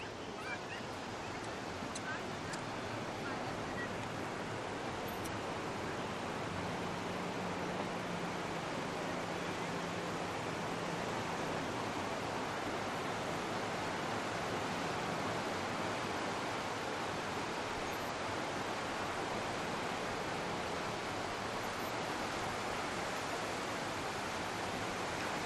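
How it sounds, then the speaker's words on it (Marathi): Sea surf on the Ratnagiri coast of the Konkan forms a dense, continuous roar of breaking waves with wind buffeting the microphone, steady and loud across the whole stretch, with faint voices mixed in. "रत्नागिरीचा समुद्र."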